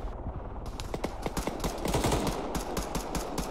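Sustained machine-gun fire in Arma 3, rapid evenly spaced loud shots rattling continuously for several seconds with heavy low thumps and echoing tails.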